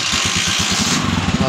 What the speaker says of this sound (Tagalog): Try na muna natin paandarin kung makukuha natin ng 1 click.